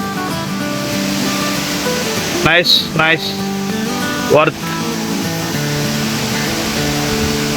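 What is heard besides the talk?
Minamaluru waterfall flowing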